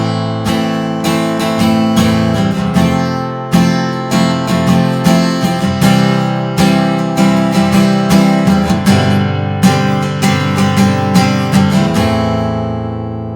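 Acoustic guitar strumming the chords of a song in a steady rhythmic pattern, each strum ringing out loud and close, with no voice over it.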